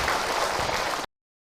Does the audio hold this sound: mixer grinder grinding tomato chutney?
no